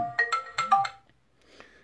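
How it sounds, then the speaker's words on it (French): A smartwatch's find-my-phone feature sets off a phone ringtone, a short bright electronic melody of about five quick notes, close and clear, then fading into a faint tail and quiet. "Ici, ça va être pour trouver mon téléphone. Voilà, donc ça le fait vibrer ici."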